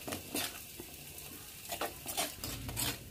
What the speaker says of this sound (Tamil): பொரிஞ்ச கடுகு உளுத்த பருப்பு கீரையோடு சேர்த்து நல்லா கிளறி விட்டுடலாம்